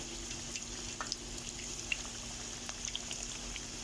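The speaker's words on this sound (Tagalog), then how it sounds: "Kaya tayo ay magproprito, di ba? Mm. Ang init-init na mantika." Sambusa frying in very hot oil, a steady close sizzle with small scattered pops and crackles running throughout, no voices over it.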